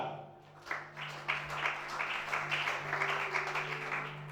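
Worship congregation applauding at a church service, a continuous soft wash of many hands clapping, fairly distant and even, with a low steady hum underneath.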